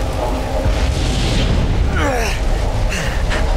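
Gas bomb blast in Resident Evil 7, a dull booming burst with rumbling debris and a few sharper pops, loud and close, with someone speaking over it.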